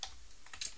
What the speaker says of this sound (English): S will take a screenshot on the keyboard